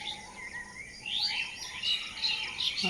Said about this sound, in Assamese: কিমান যে ভাল লাগে ৰাতিপুৱা সময়ত চৰাই